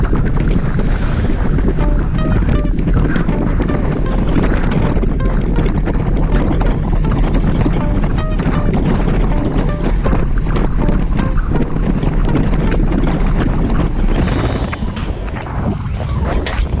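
Strong wind buffets the microphone during an outdoor group bicycle ride, a loud continuous roar that stays steady throughout and eases slightly near the end.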